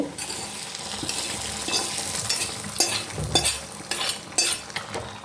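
Fried colocasia (taro root) tipped into a simmering tamarind kuzhambu and stirred, giving a steady close sizzle with scraping spoon strokes and clatter that grow sharper toward the end.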